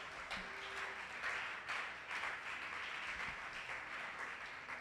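A church congregation applauds during a French-language teaching service, a faint, steady patter of many hands clapping at a distance with no clear voices over it.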